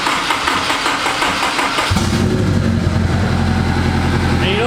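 A VR30-swapped Nissan 370Z with an open downpipe and no exhaust beyond it fires up partway through and settles into a loud, steady idle with a turbo whine riding over the low rumble.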